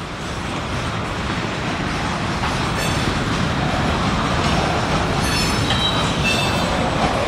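A Union Pacific freight train rolls past close by, with loud continuous rumble, wheel noise and intermittent squeals building slightly over several seconds, no voices.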